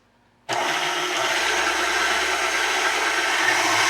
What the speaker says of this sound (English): Just add the egg white and some salt, and I'm going to let this one whisk for a few minutes